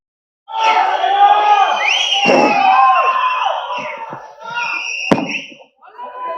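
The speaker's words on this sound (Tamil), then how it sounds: "ப்ளீஸ் ஒரு பெரிய கைத்தட்டல்" Audience at a film pre-release event cheering and shouting loudly, a dense crowd roar with whoops and whistles sustained for several seconds, with a sharp bang partway through.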